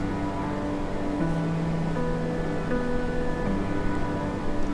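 Kozhippara waterfall sends up a constant, full rush of falling water, an unbroken roar close by with no voices.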